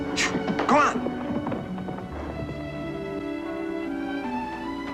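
A horse being ridden, hooves clip-clopping in a quick burst at the start beneath excited shouting voices, fading into a sustained musical score with background noise.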